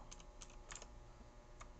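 Keystrokes clatter on a computer keyboard during a text-editor session on a Ryzen 9 PC, a few quick taps in small bursts, faint and close, with a low steady background hum and no talking.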